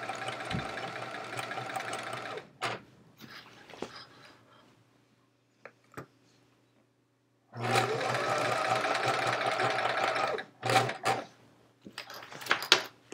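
A domestic sewing machine stitches quilt top fabric for a chevron quilt in two long bursts of steady motor whir, separated by short stops, quiet gaps and small clicks and handling sounds.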